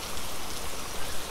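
Heavy rain drumming on a tin roof, a dense, steady hiss of drops that is loud and close, with no voices.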